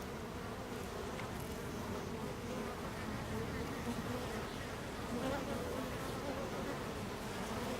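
Honeybees swarm around a syrup feeder, filling the air with a continuous, even buzzing hum from many insects at once, soft and steady throughout.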